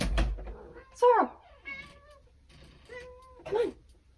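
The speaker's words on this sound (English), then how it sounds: "I can hear my cat." A pet cat meows several times indoors, drawn-out cries rising and falling between short pauses, with faint background sound in the room.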